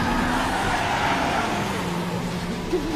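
A jeep drives off, its engine rumbling steadily and close by, with tyre and road noise running throughout and no clear talk over it.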